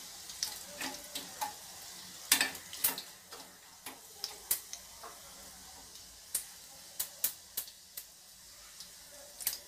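Garlic tempering for dal sizzles in hot oil, a quiet hissing bed broken by many sharp crackles and pops scattered irregularly across the stretch.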